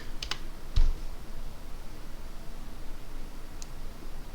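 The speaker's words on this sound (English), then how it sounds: "And type in my IP." Computer keyboard typing, a few quick faint keystrokes near the start and one isolated click later, close by over a steady background hiss, with no talk.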